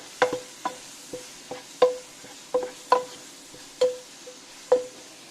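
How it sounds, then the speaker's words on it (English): A spoon stirring cooked food in a borosilicate pot with the heat switched off, giving about nine separate scraping knocks at a steady, unhurried rhythm, close by and moderately loud, with no voices. "give it a stir"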